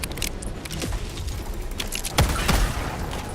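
A sentry gun deployed in a video game fires rapid gunfire with sharp cracks and thumps, the loudest bursts near the end, set against a busy background of battle noise.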